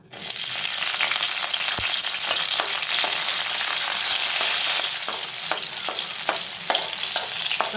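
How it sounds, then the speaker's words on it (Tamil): Green chillies fry in oil in a kadai with a loud, continuous sizzle and crisp spitting crackles. It starts abruptly, and one brief knock of a utensil comes early. No one speaks. "ஒரு கடாய் வச்சுட்டு அதை எண்ணெய் சேர்த்துக்கோங்க. அதோட பச்சை மிளகாய்"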